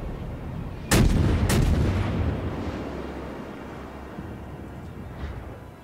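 Naval artillery fires in World of Warships: two heavy booming salvos close together near the start, each followed by a long rumbling tail that fades over several seconds, with no talk.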